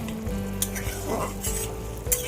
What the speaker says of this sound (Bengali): চুনো মাছগুলো দিয়ে একটু নাড়াচাড়া করে